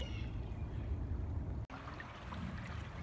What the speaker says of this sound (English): Pretty creek.